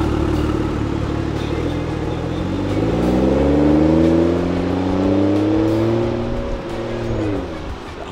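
A newly bought car revs and drives close by, its engine note climbing steadily in pitch, holding, then dropping away, loud and continuous with no talk over it.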